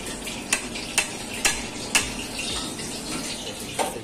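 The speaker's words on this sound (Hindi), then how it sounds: "टमाटर सूप को स्टन कर लेना है," Restaurant-style tomato soup thickened with flour is stirred through a strainer, giving a soft continuous liquid swish with a few sharp taps of the spoon against the mesh at regular intervals.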